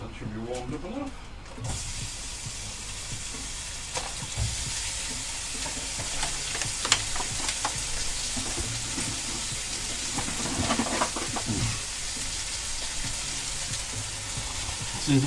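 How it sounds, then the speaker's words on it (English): Food fries in a hot pan with a steady, close sizzle and scattered crackling pops, keeping up as an unbroken hiss throughout while a voice talks over it at times. "Sizzle, sizzle, pop, pop."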